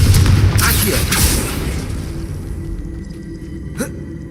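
Confringo blasting spell from Hogwarts Legacy: one loud, booming blast at the very start rumbles away over several seconds, followed near the end by a brief, sharp crack.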